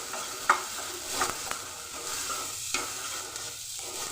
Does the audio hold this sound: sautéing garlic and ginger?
yes